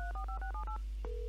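A string of quick telephone keypad tones dials a number in a video game, about seven short beeps in a steady rhythm followed by a single sustained tone, clean and alone.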